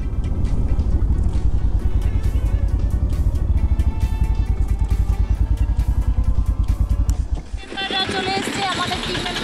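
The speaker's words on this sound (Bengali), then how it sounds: "চলো বাইকটা ডান দিকে কোথাও একটা পার্কিংয়ে লাগাই।" A motorbike engine runs close and loud with a throbbing, pulsing rumble as it rolls toward a parking spot at a tourist site, then drops away near the end as other noise takes over.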